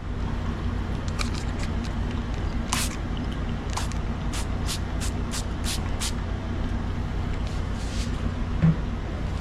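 A series of short, crisp hissing spray bursts of a watery leather cleaner, several quick pumps in a row, over a low steady background hum.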